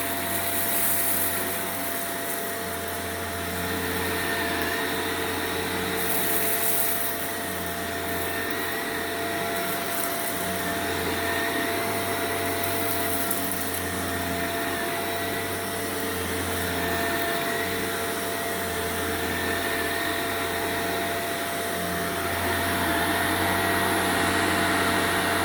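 A Shark NV752 vacuum cleaner runs steadily on a low pile carpet setting, giving a continuous motor whine and a broad rushing airflow hiss that stays even and close throughout.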